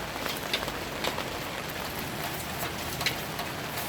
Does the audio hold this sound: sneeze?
no